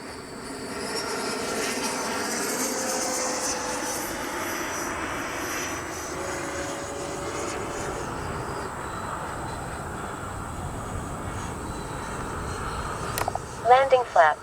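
A Freewing 90mm T-45 RC jet flying past, its steady ducted-fan whine holding loud for the whole pass before fading slightly, with voices and a few sharp clicks near the end.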